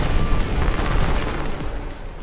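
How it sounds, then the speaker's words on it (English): The final lantern explodes in a Destiny raid with a loud, dense blast. A rumbling roar crackles and fills the whole span, then slowly eases off. "Avoid the explosion created by the final lantern"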